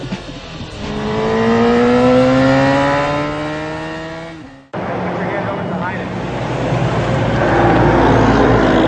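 A Repsol-liveried motorcycle revs up with uneven throttle, its engine note climbing, dropping off abruptly, then surging again at close range.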